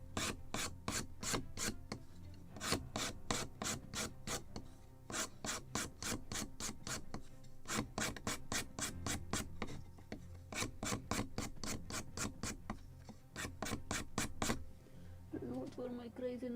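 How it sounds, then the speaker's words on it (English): A wooden yard for a Model Shipways kit of the 1776 gunboat Philadelphia is scraped by hand, giving bursts of quick, rhythmic rasping strokes in close-up, with short pauses as the spar is turned, then a brief murmur at the end. "So I'm constantly turning and scraping, so it will be evenly scraped."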